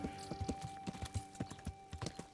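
Horse hooves clip-clop in a steady, uneven trot through Kingdom Come: Deliverance, fairly quiet but distinct, with a faint whinny-like tone in the background and no talk.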